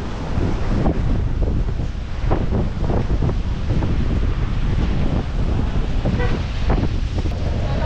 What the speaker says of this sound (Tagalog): Talagang malakas yung alon.